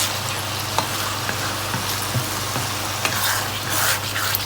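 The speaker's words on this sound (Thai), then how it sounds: "ผัดไปเรื่อย ๆ" Loud, continuous sizzling and frying as rhubarb stalks are stir-fried in Thai pork chili paste, with repeated spatula scrapes against the pan, close and without speech.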